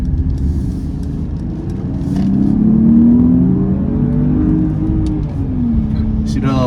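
A 2023 Mercedes GLS 450 luxury SUV accelerates in second gear using its paddle shifters. Heard from inside the cabin, the engine drone climbs steadily in pitch, then eases and rises again.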